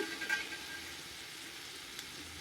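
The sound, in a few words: frying mint and coriander leaves for chutney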